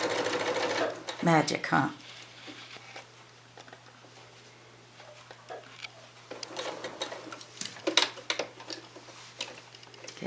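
A sewing machine runs in short bursts while stitching a gentle curved seam on a nine-inch quilt block, its steady whir rising and falling between pauses, with someone talking quietly over it at close range.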